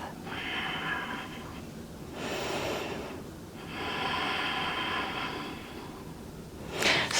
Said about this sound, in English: Listen to nothing else but your breath.